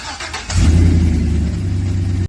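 A Chevrolet C-10 truck engine cranks briefly, then catches and settles into a loud, steady idle close by, running evenly until it cuts off abruptly.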